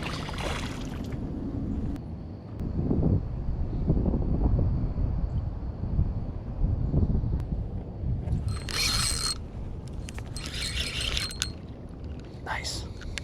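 Strong wind buffets a microphone on a boat on the Butler Chain lake, a steady roaring rumble with gusts, mixed with clicking and ratcheting from fishing gear.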